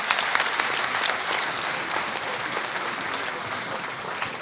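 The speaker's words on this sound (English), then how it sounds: "A better round of applause for the man, Governor Rochas Okorocha." A crowd at a speech by Governor Rochas Okorocha breaks into sustained applause, dense clapping that stays even and full throughout.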